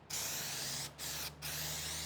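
Spray can of undercoating hissing onto a 1986 C30 truck during rust repair: three close, loud bursts separated by brief pauses.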